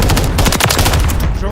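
Call of Duty Modern Warfare 3 gunfire as a grenade launcher is fired, with a loud, dense rattle of rapid shots packed into a short, intense burst.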